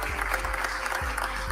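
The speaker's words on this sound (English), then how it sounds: "Please give him a round of applause." Audience applause at a live news briefing, a steady broadband patter of clapping held at an even level for the whole stretch, with faint low voices underneath.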